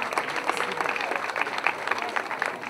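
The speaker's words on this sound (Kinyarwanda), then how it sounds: "Umwongera amashyi ntabwo akwiriye Fred wese." Applause at a graduation day ceremony, honouring a teacher as a medal is presented; steady, moderately loud clapping from a crowd lasting throughout, with some voices mixed in.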